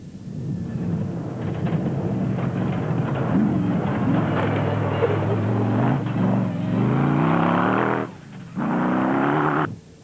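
Off-road race cars in the 2005 Sun City 400 rally roar through a sandy S-bend among thorn trees, a loud sustained engine drone with revving surges that briefly cuts out near the end.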